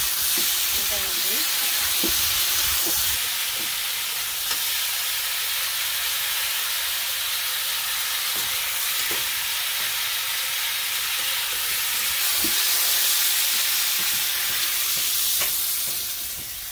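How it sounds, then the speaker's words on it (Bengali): A pot of fish curry, made from a very large fish, hisses and sizzles steadily after its spices have been sautéed down and the broth poured in, with a loud, continuous frying crackle and faint stirring knocks. "তরকারি আমার কষানো হয়েছে, আমি ঝোলটা দিয়ে দিই।"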